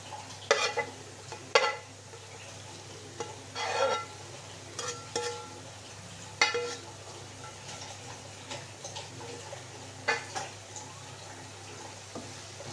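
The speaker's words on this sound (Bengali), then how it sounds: "মশলার সাথে ভালোভাবে একটু কষিয়ে নেব" Taro stolons (kochur loti) being stirred into a coconut milk masala in a pan, with a soft ongoing sizzle under repeated spatula scrapes and knocks spaced every second or two, close and moderate in level.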